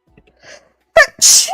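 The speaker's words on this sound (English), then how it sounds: "Here we go with the sneezes" A quick sharp inhale followed by one loud, close sneeze, then a second burst of breathy noise.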